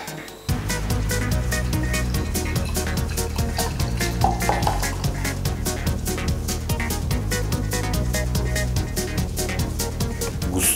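Thick, carbonated braggot, a beer-mead, poured from a bottle with loud, steady, rhythmic glugging and splashing that continues for several seconds, close and clear with no talking.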